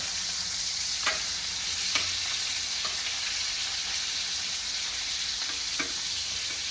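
Pork chops pan frying, a steady close broadband sizzle with a few faint clicks of a utensil or the pan.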